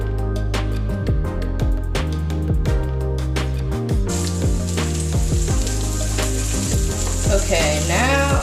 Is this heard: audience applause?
no